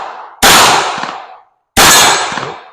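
Two sharp gunshots from an S&W Bodyguard 2.0 .380 pistol crack at an outdoor range, about a second apart, each ringing off with a short decaying tail.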